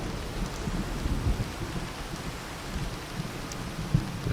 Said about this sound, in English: We'll take a second to clear apparently because the rain's quite heavy.